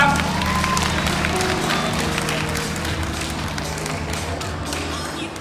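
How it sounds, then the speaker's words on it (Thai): A crowd applauds at a handicraft fair in Bang Sai, Ayutthaya, a dense wash of clapping that stays steady and fairly loud throughout before easing slightly at the end. "ขอเสียงปรบมือ1ครั้งนะครับ"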